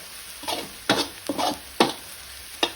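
Coriander root, garlic and bird's eye chili stir-fried in a hot pan, with a steady background sizzle broken by four or five scraping, tossing strokes of the spatula at an uneven pace, close and clear, with no talking.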